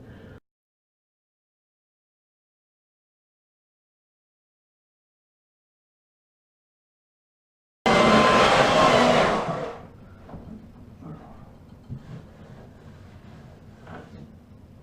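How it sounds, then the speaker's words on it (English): A belt sander grinds popcorn texture off a drywall wall, starting as a loud, close, steady roar after a long silence, then dropping to a lower rumble with scattered scraping knocks. "whenever you're using a belt sander, you want to be pretty careful with it"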